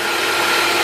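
A brief, steady whir of a drill boring into a horizontal stabiliser for a model aircraft, pecked in short steps and lubricated with kerosene, continuous and close with no pauses or talk.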